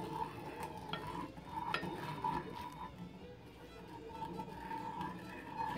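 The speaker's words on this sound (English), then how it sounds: "I'm gonna stir that up and keep stirring" Candied cicadas being stirred in a hot pan over medium-high heat, with a steady sizzle and the repeated scrape and clink of a utensil against the pan, close and continuous with no talk.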